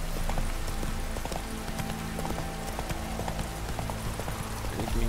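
A horse gallops in The Witcher 3: Wild Hunt, its hooves beating a fast, steady clip-clop over a dense, continuous outdoor game soundscape.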